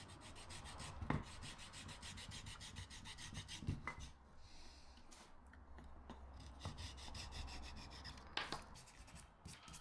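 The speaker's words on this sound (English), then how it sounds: "now I'm just scuffing it all back a bit, the paintwork and everything, just to give it more of a rustic sort of look" Painted wood on a small offcut DIY project is scuffed back for a rustic finish, producing faint, close, repeated rasping strokes with a few light knocks in between.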